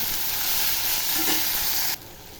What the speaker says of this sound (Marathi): आता टॅमॅटो टाकते टॅमॅटो टाकल्यावरही चांगलं असं परतून घ्यायचं